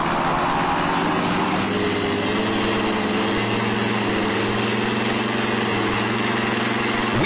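Evolution STL paramotor engine running steadily during pre-flight tests, a loud continuous buzzing drone with a clear harmonic hum that holds level throughout, close by and alone.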